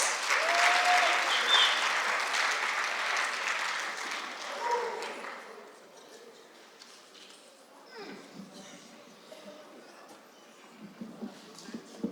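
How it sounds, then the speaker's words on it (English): A crowd applauds loudly for several seconds at an 8th grade graduation ceremony, then the clapping fades out, leaving scattered room noise and faint movement. "We'd like to just have him stand and acknowledge him with applause"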